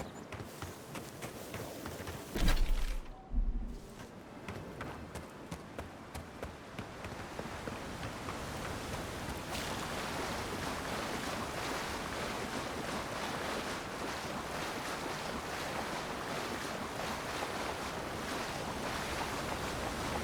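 A waterfall in the video game Avowed roars as a steady, dense wash of rushing water, loud and continuous throughout, with a brief muffled thump near the start and no speech.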